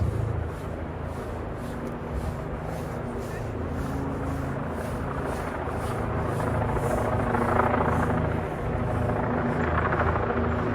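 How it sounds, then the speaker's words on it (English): A helicopter drones loudly and steadily close overhead during the Macy's Thanksgiving Day Parade balloon inflation, its rotor thumping in a rapid pulse, with a faint voice underneath. "When I said the helicopter was right on top of us"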